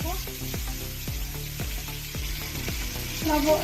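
Chopped onions fry in oil with dried chillies and bay leaf for rohu fish curry, a steady sizzle punctuated by a regular series of low knocking stirs, with a brief higher scrape at the end.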